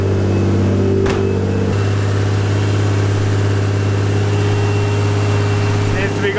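A Nissan 240SX S14 with an RB25DET engine runs after a cold start, giving a loud, steady, close idle drone with a slight dip early on and brief handling noises.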